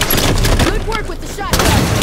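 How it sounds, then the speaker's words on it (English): Shotgun blasts in a Halo 5 Guardians Infection match on the Riptide map, thick and booming with a fresh heavy blast near the end, mixed with voices over a continuous loud din. "Showing what a shotgun can do."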